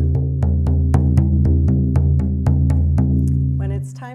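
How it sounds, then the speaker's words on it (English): Steady shamanic drum beat for a guided journey, regular strikes about twice per second, each hit sharp and close over a sustained low drone, ending with a brief higher ringing tone. "So my drum beat will sound like this."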